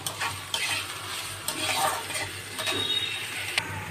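Chopped onions frying in oil with a pinch of salt, a steady close sizzle broken by occasional spoon scrapes and light clinks of utensil against the pan.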